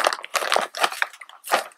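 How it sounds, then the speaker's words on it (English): Potting soil poured into a microgreens growing tray gives a series of rough, crumbly rustling bursts, close and fairly loud, with short pauses between pours. "Take your potting soil,"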